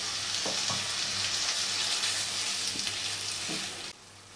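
Tomato paste hits hot oil over a ground chilli paste, producing a continuous dense sizzle with a few soft scrapes of stirring, cutting off sharply just before the end.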